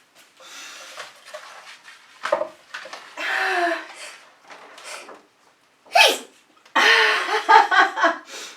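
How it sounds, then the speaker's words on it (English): Breathy build-up and a sudden sneeze amid scattered vocal sounds and short exclamations, close and fairly loud. "Oh, I might sneeze."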